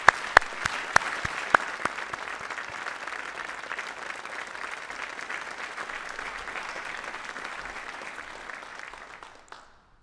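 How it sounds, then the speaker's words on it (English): At a Medal of Honor ceremony an audience breaks into applause, a few sharp individual claps at first swelling into a steady, even round of clapping that fades out near the end. "So let's give them a round of applause."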